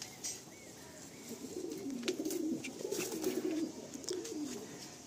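A Madrasi pigeon coos in a steady, low rolling series of close calls, several throaty phrases repeating over a faint background hiss with no talking.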